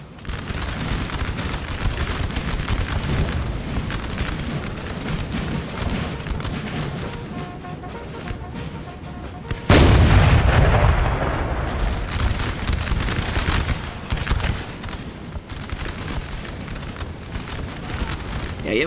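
Artillery and massed musket fire rumble continuously across a Napoleon Total War battlefield, a dense crackle with a heavy boom midway, and a voice talks over the din.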